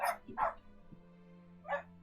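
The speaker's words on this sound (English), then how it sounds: "I'm waiting for a maniac to stop barking behind me" A dog barks in short separate bursts, two sharp barks close together and then one more after a pause, fairly close by and loud. No one speaks.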